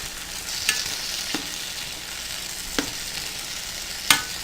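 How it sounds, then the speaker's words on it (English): Peppers fry in a pan for Jamaican ackee and saltfish, making a steady close sizzle broken by a few sharp stirring scrapes and clinks, with no talking. "it's time to add our peppers"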